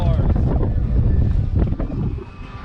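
Strong wind buffets the microphone on a lake during a walleye fishing trip from a boat, a loud low rumbling roar with gusts that ease off toward the end, while someone talks over it.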